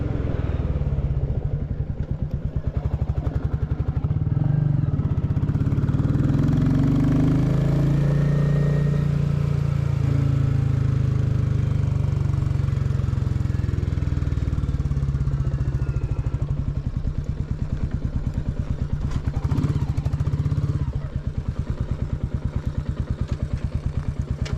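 Royal Enfield Classic 350 single-cylinder engine thrums loud and close for the whole stretch, a continuous throbbing rumble rising and falling with throttle under riding wind.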